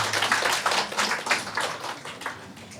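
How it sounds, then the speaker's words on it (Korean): Church congregation applauding to welcome visitors during a service, moderate scattered clapping in the room, fairly soft and somewhat uneven, fading toward the end. "우리 뜨거운 박수로 환영하겠습니다."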